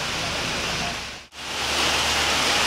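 Heavy rain pours steadily at Muara Bungo bus terminal during an evening stop, a loud, dense hiss that briefly drops out before returning just as strong.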